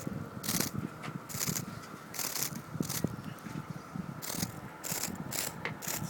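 A cicada with half its body missing buzzes in close, rasping pulses that start and stop in short bursts, separated by quieter stretches of background noise.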